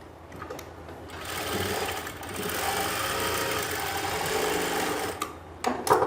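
A sewing machine runs steadily, stitching a folded margin of fabric while a kurti is sewn, a continuous close whir that starts after a brief pause and stops near the end with a few short bursts.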